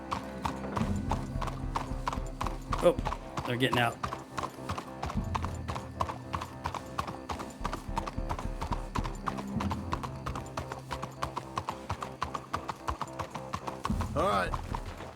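Horse hooves clip-clop steadily throughout, with a faint whinny, in a Western open-world video game, Red Dead Redemption 2; in-game voices talk over the rhythmic hoofbeats and background music.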